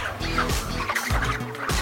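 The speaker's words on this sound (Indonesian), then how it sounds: "Ayam yang kita kumpulkan ini adalah ayam pedaging" Month-old broiler chickens, each over a kilogram, fill a poultry collector's holding area with dense, overlapping clucking and squawking that runs on without a break.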